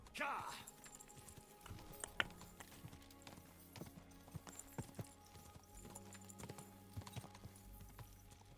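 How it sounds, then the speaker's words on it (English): A horse's hooves clip-clop steadily in Kingdom Come: Deliverance II, a rhythmic run of hoof beats alongside other game sounds. "Pebbles, the Wonder Horse."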